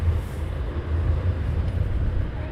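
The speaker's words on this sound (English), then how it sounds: "And that's the Lancaster having its engine test." Avro Lancaster engine test at RAF Coningsby, a steady low droning rumble heard from a distance, continuous and even with no talking over it.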